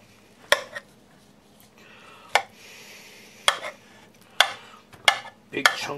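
Corned beef fried rice gets stirred in a pan, a spatula clanking and scraping metal in sharp irregular strikes about once a second over a faint sizzle, up close.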